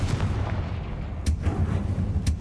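Bombarda and Confringo spell explosions in the Hogwarts Legacy video game: a steady low rumble of combat broken by two sharp, loud blasts about a second apart, with no talk.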